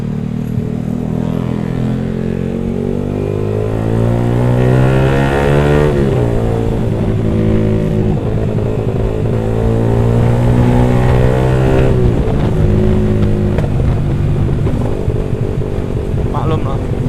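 A loud, modified motorcycle engine that has been taken apart revs up and down repeatedly, rising and falling in pitch, close and rough-sounding, at night, with a voice briefly under it.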